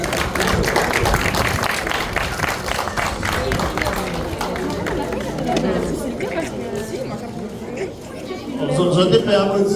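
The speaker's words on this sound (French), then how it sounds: "Vous pouvez l'applaudir." Crowd at a goat breeding competition prize-giving in Petit-Canal applauding a breeder, steady clapping mixed with lively chatter and an announcer's voice throughout.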